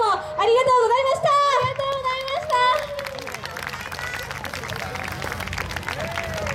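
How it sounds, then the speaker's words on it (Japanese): At the Amatsuri 2015 festival stage, a voice speaks briefly before a full audience breaks into sustained, even applause to see off the performing group Nagoya Color. "もう一度大きな拍手でお見送りください。"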